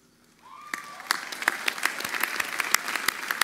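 Applause at a university undergraduate commencement ceremony starts quietly and swells into loud, sustained clapping from a large audience, with sharp individual claps standing out near the microphone.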